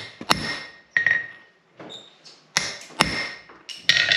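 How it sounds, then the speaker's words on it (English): A hammer strikes a blacksmith's anvil in a series of sharp, ringing metallic taps, spaced irregularly with short pauses between them, close and fairly loud with no talking. "I'm going to make a couple marks on my anvil"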